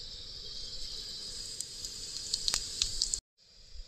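Four dry red chillies and whole cumin seeds sizzle in hot rendered duck fat, a steady bright hiss with scattered crackles and pops, fairly close, with a brief dropout near the end.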